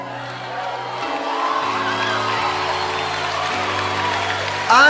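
Teenagers shout and cheer in an audience in a steady, echoing hall, with a sustained low musical drone underneath and a sharper burst of noise at the end.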